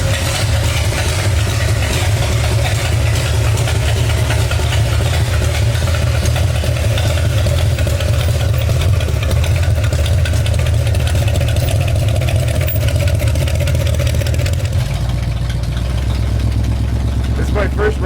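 A Cadillac engine in a 1938 Ford rat rod runs loud and close with a deep, steady rumble throughout, its tone shifting slightly near the end; people talk faintly beneath it.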